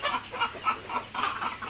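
Chickens on a poultry farm, suffering in hot weather, keep up a steady stream of overlapping clucks at moderate volume, several birds calling in quick rhythmic bursts with no voices.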